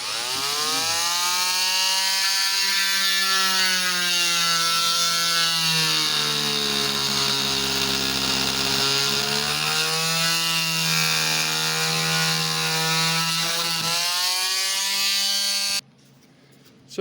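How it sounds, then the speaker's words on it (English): An oscillating saw cutting through material in a scratch-built FP202 rudder linkage job, a loud, steady high-pitched buzz whose pitch wavers with the load for about sixteen seconds before stopping. "by now y'all should know how much I appreciate my oscillating saw"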